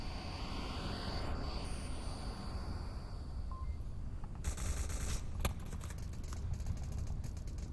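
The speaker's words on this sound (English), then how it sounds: "A lot of firefighting going down in the north section." Gunfire in a firefight in the VR shooter Onward: rapid crackling automatic bursts rise in the second half over a steady, rumbling background drone, heard at some distance.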